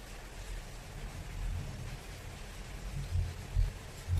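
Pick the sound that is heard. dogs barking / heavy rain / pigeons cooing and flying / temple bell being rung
heavy rain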